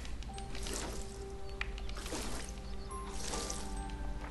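A watering can is refilled with water in the farming video game Fae Farm, giving three brief, soft liquid pours and sloshes over quiet tonal background game music.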